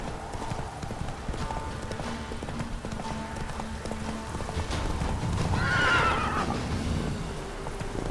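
Horse hooves galloping in The Witcher 3 video game make a steady, fast clip-clop rhythm that runs throughout, with a brief whinny near the end and someone talking faintly underneath.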